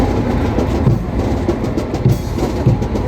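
The Siddheshwar Express train from Solapur runs on its rails with a loud, close, continuous rumble and rhythmic wheel clacks over the track joints.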